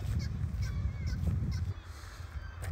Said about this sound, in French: les oiseaux sont rois, hein, forcément, donc ils se font entendre, bien évidemment